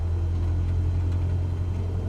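A car engine idles with a steady low rumble close by, a constant droning hum with no clear rise or fall, heard alone near an airfield ramp.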